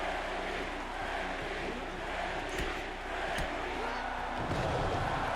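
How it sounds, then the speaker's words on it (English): Wrestling fans cheer in the arena of AEW Fight Forever, a steady crowd roar with a few thuds from the ring underneath, while a commentator's voice talks over it. "Listen to the fans cheer for absolute Ricky Starks."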